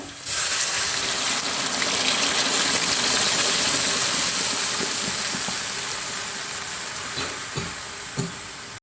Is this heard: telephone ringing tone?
no